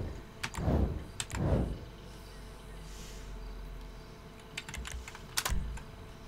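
Quick bursts of computer keyboard typing during a GTA 5 Online session, close and crisp, with short clusters of clicks separated by pauses over a low steady hum.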